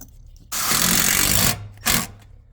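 A power driver runs 5/16 hex-headed screws into aluminum in two bursts, a steady whirring drive of about a second followed by a brief second spin, loud and close.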